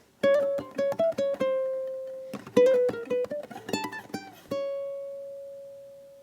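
Ukulele picking a gypsy jazz waltz melody across four measures, a run of bright plucked notes that ends on one long ringing held tone, played solo with no talking.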